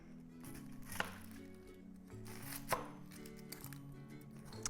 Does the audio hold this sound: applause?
no